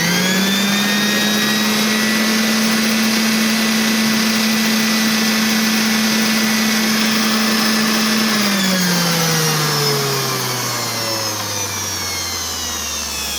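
Electric sander running at about 300 watts from a Flashfish A301 portable power station, a steady loud motor whine that holds level for about eight seconds, then winds down as it switches off, with no talk.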